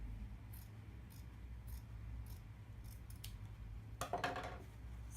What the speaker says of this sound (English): draw a line right here in the middle, and I'm going to cut it